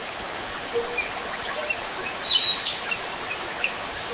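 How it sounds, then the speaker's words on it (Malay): AI-generated nature audio of birds over a flowing waterfall: a steady soft hiss of falling water with scattered faint chirps and a few brighter tweets near the middle. "dengan burung berterbangan, dengan bunyi sound burung tu, dengan air terjun yang mengalir"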